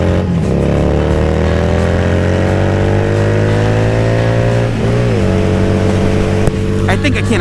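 A Harley-Davidson Street Glide motorcycle on a test ride, its engine droning steadily and loudly throughout with rising and falling revs and a brief dip near the middle, as the rider talks over it.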